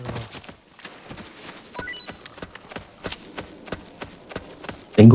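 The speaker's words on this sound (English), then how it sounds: "So we're gonna take D-Horse into a cave" Horse hooves clip-clop at a steady trot in Metal Gear Solid as the D-Horse carries Snake toward a cave, a regular run of sharp close hoof hits over quiet game ambience, with a louder burst at the very end.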